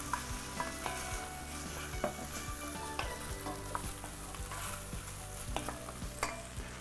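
Meat, peppers and onions frying with butter in a pan, a continuous sizzle broken by repeated scraping and knocking of a utensil as the pan is stirred.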